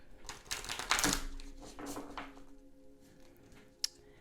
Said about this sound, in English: Give our cards a shuffle.